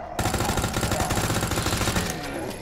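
Rapid automatic gunfire from Resident Evil 2 Remake rattles out in a dense, continuous burst, loud and close, with a faint muffled echo trailing off at the end.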